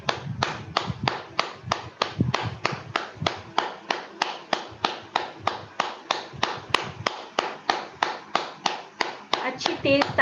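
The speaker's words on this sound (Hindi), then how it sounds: "अच्छी तेज ताली बजाइए" Loud, steady rhythmic hand clapping at a group meditation session, about three claps per second sustained throughout, sharp and close.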